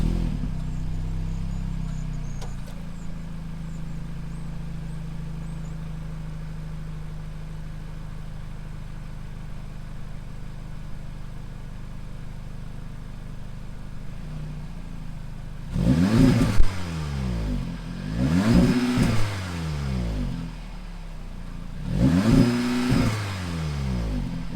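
Audi S3 facelift with its factory exhaust, revved in three sharp bursts near the end after a long stretch of quiet idle, each rev climbing and falling quickly, close and loud.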